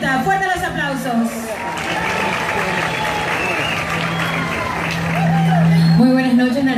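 Sustained crowd applause at a Miss Ecuador candidate presentation in Naranjal, greeting a contestant from Guayaquil; a steady wash of clapping that swells toward the end, with a voice on a loudspeaker and crowd chatter mixed in.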